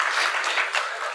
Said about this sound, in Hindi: ताली तो बहुत देर के बाद बजा दिया